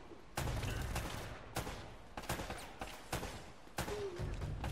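AK rifle fire in Uncharted: Drake's Fortune on PS4, a handful of sharp, loud shots in short bursts with gaps between them, no talking.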